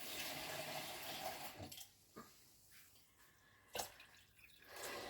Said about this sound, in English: now I can add some more water, just a little.